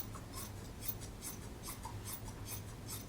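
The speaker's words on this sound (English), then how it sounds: "We're going to cut this open." Scissors cut open the folded edge of fabric for a cape in a run of soft, rhythmic rasping snips, close but quiet, with no talking.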